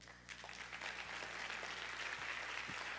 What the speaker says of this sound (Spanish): Un aplauso ahora.